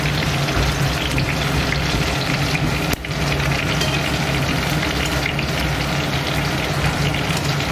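Whole bay leaves, cumin seeds, cinnamon, cardamom pods and cloves sizzle and crackle steadily in hot mustard oil, a loud, continuous close frying hiss that barely falters once midway, with no talking.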